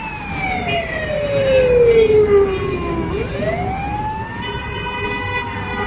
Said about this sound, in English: Looks like there was an ambulance, so people are following the ambulance.